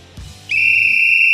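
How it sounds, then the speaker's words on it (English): A single loud, shrill whistle blast starts about a third of the way in and holds steady to the end, after a soft thump. "Kickoff Kevin, whistle us in."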